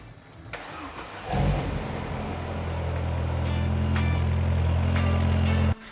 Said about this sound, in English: let's plug it onto this Zafira and let's see if it'll start it.